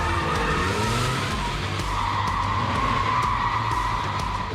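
Rear-engine, rear-wheel-drive Porsche 911 sliding through a film stunt, tires skidding and squealing continuously under steady engine roar, loud and close throughout with no talk.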